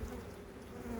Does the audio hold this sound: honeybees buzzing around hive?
yes